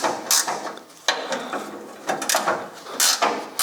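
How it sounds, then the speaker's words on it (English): Wrench working loose 3/4 inch bolts near the bumper of a 1956 Chrysler 300, giving a series of close, sharp metallic clicks and ratcheting bursts in uneven rhythm with brief pauses. "Let's loosen those bolts off. I think it's 3/4 inch,"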